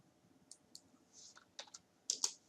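Sparse taps on a computer keyboard, close and fairly quiet: a few separate key clicks, then a denser cluster of sharper presses at the end against near silence.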